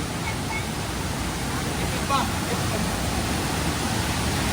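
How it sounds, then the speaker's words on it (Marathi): The Somtirth waterfall near Malgund and Ganpatipule roars in a constant, dense rush of fast-flowing water, loud and unbroken throughout. "प्रचंड वेगाने पाणी वाहत आहे"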